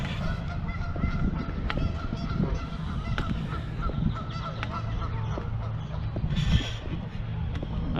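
Geese honk and hiss repeatedly at a zoo over a rumbling background, several birds calling at once with sharp, nasal cries, fairly close.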